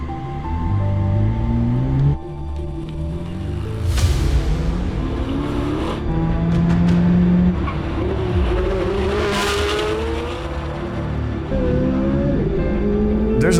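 A Chevrolet Corvette ZR1 races hard around the Nürburgring, its engine roaring loud and near with rising and falling revs through gear changes, punctuated by whooshing pass-bys and a brief tire squeal.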